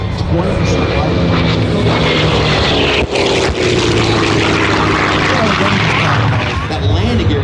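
A Grumman F8F Bearcat warbird with a Double Wasp radial engine of 2,200 horsepower and a big propeller drones loud and steady at an outdoor airshow, a constant roar with no break.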